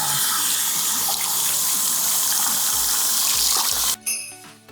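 Steady tap water runs loudly into a salon shampoo sink while hair and scalp are rinsed after a color treatment, a continuous broadband rush that cuts off abruptly near the end.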